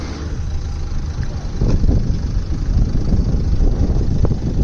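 A repaired car rolls along a road on its test drive, its engine and tyre rumble carried under steady, loud wind buffeting the microphone, with no break in the noise.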